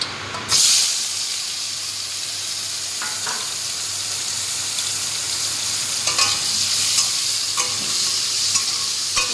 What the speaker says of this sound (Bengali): সেগুলো একটু কড়া করে ভেজে নিই